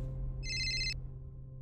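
A single short electronic ringtone burst from a mobile phone chirps clearly for about half a second over a steady low hum, in a scene from a Marathi TV serial; nobody speaks.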